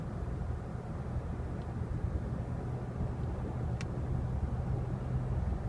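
Steady low road rumble and engine drone from inside a moving car, with a faint brief whoosh as a Fiat overtakes, no voices.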